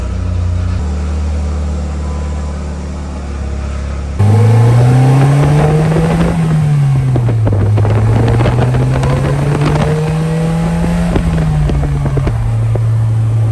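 A car engine cranks and catches, then settles into a loud, close running idle with a rising and falling rev.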